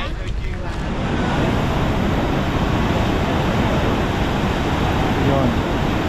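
Huka Falls in New Zealand roars as a loud, continuous broadband rush of water, with heavy wind buffeting over it.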